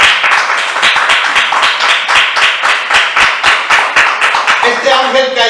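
Rhythmic congregational clapping in a church service, loud and steady in an even beat, with a voice beginning to speak over it near the end.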